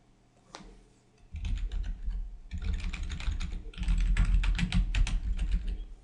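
Fingers tapping out a password on a computer keyboard, a close, steady patter of clicking keys that starts sparse and builds into rapid continuous typing.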